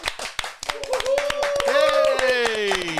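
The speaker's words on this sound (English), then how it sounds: "Big round of applause" A few people clapping for a guest introduced on a podcast episode, sharp close claps in quick irregular bursts while voices cheer and call out over them.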